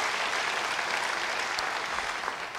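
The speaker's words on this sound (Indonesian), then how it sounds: "Yang mau beri tepuk tangan." A church congregation at a sermon applauds, with steady, even clapping from many hands that carries on at moderate volume throughout.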